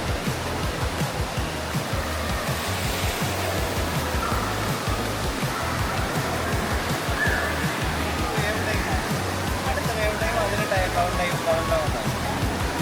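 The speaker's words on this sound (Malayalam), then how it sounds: "ഇത് വേപ്പൂളാണ്, നിങ്ങൾ കാണാം." Steady, loud rush of churning water in a wave pool at a water park, filling the scene continuously, a broad wash of surf-like noise with no pauses.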